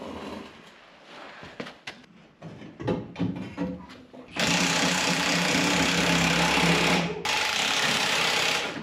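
A 1940 Plymouth Deluxe engine, fitted with only the front section of exhaust, starts and settles into a loud, steady running note after some nearby clanking and handling noises, with a short break before it resumes.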